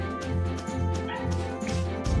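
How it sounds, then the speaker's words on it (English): A dog barks in short repeated yips over steady background music, moderately loud and close. "What is she barking at?"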